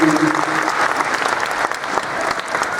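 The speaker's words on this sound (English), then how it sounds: "Applause for that." Steady, full applause fills the room at a panel with James Frain and Ethan Peck, close and evenly loud from start to finish, with a faint voice just at the beginning.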